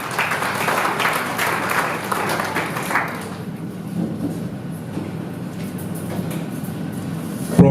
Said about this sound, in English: Please give him a big clap.